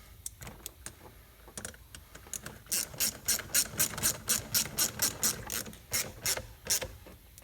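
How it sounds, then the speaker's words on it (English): A hand ratchet clicks in quick, even bursts as hose clamps are tightened during a MAF and oxygen sensor replacement. Sparse clicks come first, then a dense run of sharp, close pawl ticks. "Tighten down these hose clamps."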